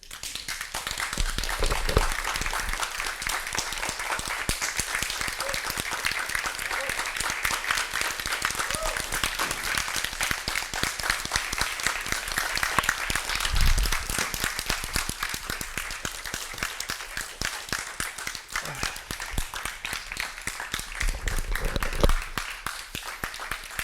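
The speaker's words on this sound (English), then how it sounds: "You can applaud now" Sustained audience applause follows a spoken-word performance, a dense, even wash of many hands clapping for over twenty seconds, with faint voices and an occasional low thump underneath.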